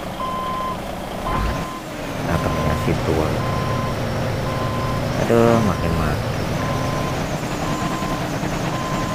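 Truck reversing beeps in Grand Truck Simulator, with a trailer-hauling rig backing up; steady repeating beeps over engine rumble and traffic noise, with a person talking throughout.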